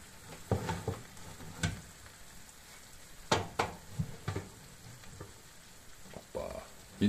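Chicken roasting with oil and sauce, a soft sizzle under intermittent scraping and stirring clatters, close by, with brief bursts of talk.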